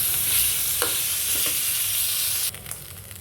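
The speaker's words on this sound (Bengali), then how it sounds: "শুটকিটারে সুন্দর করে আমি ভাজা নিব" Dried fish sizzles and crackles in a hot pan with occasional scraping stirs, steady and close, then the frying noise drops sharply near the end.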